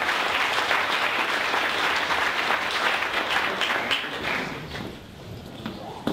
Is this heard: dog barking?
no